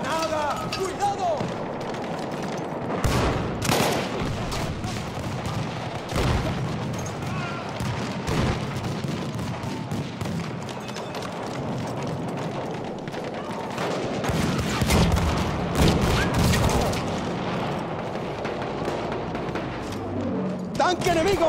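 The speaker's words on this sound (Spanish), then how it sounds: "¡Granada! ¡Cuidado!" Battlefield 1 combat with grenade explosions and gunfire, scattered booming blasts and bursts of shots at varying distances, sustained across the scene with voices in the background.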